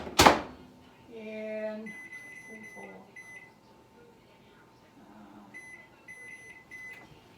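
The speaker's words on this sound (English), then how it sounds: "So I'm just going to put that in the microwave behind me." A kitchen microwave oven starts up after a sharp door thump, with a series of short beeps and then a low steady hum running under occasional faint voices.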